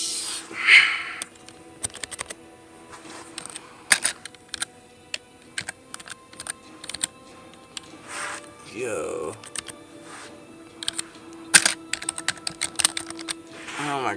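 Rapid, irregular clicking of keys on a keyboard attached to a Wii tapping in bursts, close up, with occasional soft breaths and noises between flurries.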